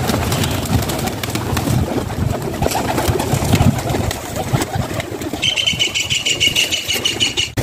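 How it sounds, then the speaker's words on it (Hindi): Pigeons coo in a close, busy flock amid rustling and bursts of wing flapping, with no talking. "ये दोस्तों निकाला है जी बाहर कबूतरों को।"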